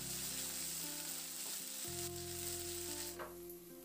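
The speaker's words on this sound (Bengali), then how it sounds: "এবার পেঁয়াজটা দিয়ে নাড়াচাড়া করে হালকা করে পেঁয়াজটাকে ভেজে নেব।" Large chopped onion sizzles steadily in a hot pan for masoor dal, with a soft scrape of stirring partway through; close and continuous, with a faint steady tonal hum behind it and no voices.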